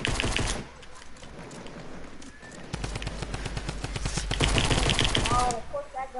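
Gunfire in a video game, rapid automatic rattling in long bursts, loud and close, with a short pause before a denser, heavier stretch of firing; a voice talks briefly at times.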